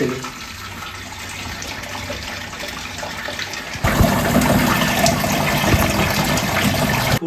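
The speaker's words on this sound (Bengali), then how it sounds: "আট লিটার পানি নিয়ে যাচ্ছি এটা এখন ঢালবো" Eight litres of water pour in a steady, rushing stream into the tank of a Thomson 28-litre air cooler, starting with a light trickle and then turning abruptly louder and fuller.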